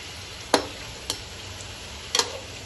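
Chicken frying in a pot for chicken and potato biryani, a quiet steady sizzle broken by three sharp scrapes of a spoon as it is stirred.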